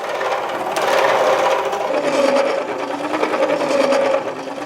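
An old electric generator machine run to light a 12-volt, 40-watt bulb gives a loud, close, steady whirring mechanical drone with a faint tonal hum, lasting several seconds before easing slightly.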